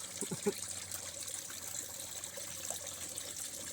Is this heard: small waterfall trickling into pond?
yes